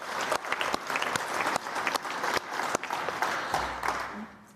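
A congress audience at the World Boxing Inaugural Congress gives a brief round of applause, dense clapping throughout that thins out near the end.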